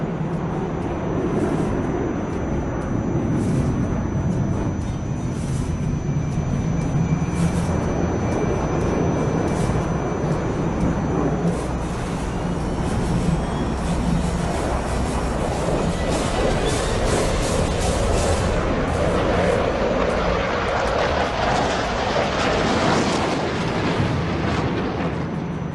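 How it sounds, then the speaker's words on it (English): A Dassault Rafale fighter jet roars continuously through a flying display at an air show, a loud, broad jet rumble that swells and shifts in pitch as the aircraft passes and maneuvers. "إذا استعراض جميل سادة الكرام من طائرة الرافال الذي بدأ مشروعها في الثمانينات كطائرة مستقبلية لتحل محل الميراج"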